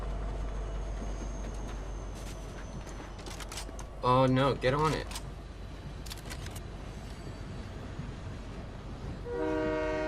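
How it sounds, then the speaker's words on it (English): A train in the Fortnite video game rumbles steadily under the gameplay, with a loud horn-like tonal blast in the middle and another rising near the end, while a player briefly speaks. "I kind of want to get into the train."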